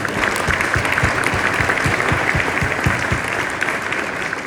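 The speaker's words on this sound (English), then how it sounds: "What applause for that." A crowd at a NAMM panel discussion gives loud, continuous applause, with a full dense roar of clapping and distinct nearby hand claps keeping an uneven rhythm throughout.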